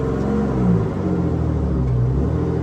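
Engine of a 1973 American LaFrance Pioneer fire truck, a loud, steady low rumble with a slight rise in pitch as the engine is throttled, close by and without talk.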